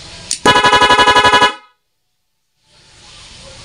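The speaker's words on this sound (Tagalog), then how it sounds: "Yan yung ating rapid horn." A loud, rapid series of about a dozen sharp horn blasts in quick succession, then silence, followed by faint background noise.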